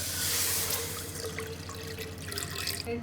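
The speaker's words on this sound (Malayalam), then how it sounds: "ഒരു കപ്പ് വെള്ളം ഞാൻ ഒഴിച്ചതിനകത്ത്" Water splashes and pours into a cooking pot on a stove, a steady close liquid rush with a few drips and light clinks toward the end.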